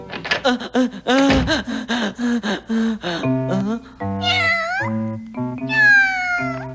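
Repeated cat meows and yowls from a Doraemon cartoon episode, mixed with gasps and animated vocal sounds, busy and close, over a musical background.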